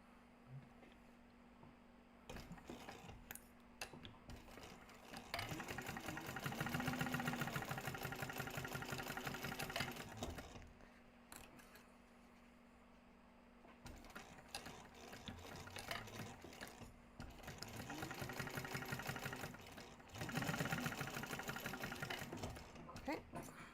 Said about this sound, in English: we're going to sew those at the seam allowance in the pattern